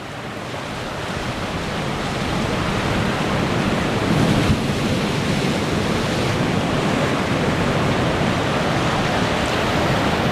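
Ocean waves crash repeatedly on the southern sea shore, a loud, continuous roar of surf that swells over the first few seconds and then stays full and rushing, with no voices.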